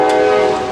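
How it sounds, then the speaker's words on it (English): A train passes close by, its horn blaring as one loud, steady chord for a brief moment before easing off slightly. "Train's coming by."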